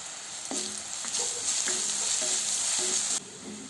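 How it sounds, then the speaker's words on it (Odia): Onion and crushed garlic fry in a pan for a pumpkin leaf dish, a steady bright sizzle with a few dull knocks of stirring, ending in a sudden drop in the hiss. "ଏବେ ମୁଁ ଏଥିରେ ଛେଚିକି ରଖିଥିବା ରସୁଣକୁ ପକାଇ ଦେଉଛି।"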